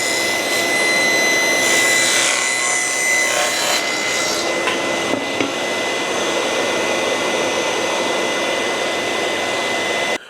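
A table saw blade cuts a groove in drawer stock: a loud, steady whining rip that holds for about ten seconds and then cuts off abruptly.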